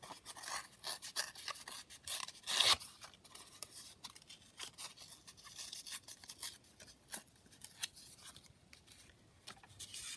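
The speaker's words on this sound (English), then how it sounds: "let's just tear this picture down in the first instance" Paper is torn by hand for a papercraft project, a string of quiet rips and crinkles with handling scrapes spread across the clip, fairly soft and close with no talk.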